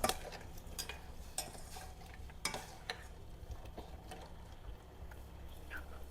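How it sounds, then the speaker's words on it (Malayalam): Jaggery syrup bubbles in a pan while a spoon stirs it, quiet scraping and clinks of utensil against metal over a soft, low simmer. "ശർക്കര ഇതാ പാവ് കാച്ചുകൊണ്ടിരിക്കുകയാണ്."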